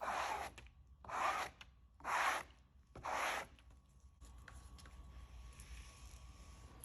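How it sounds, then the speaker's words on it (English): A scraper drags across a surface coated in house paint, giving four loud, rough, evenly spaced strokes, each about half a second long, followed by quiet room noise. "So there's our experiment. Now let's scrape it."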